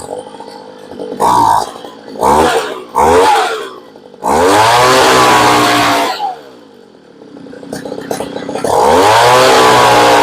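A Homelite leaf blower's small two-stroke engine, just tuned at the carburetor, is blipped in short revving bursts, then held at a loud high whine before dropping back to a rough idle and revving up again.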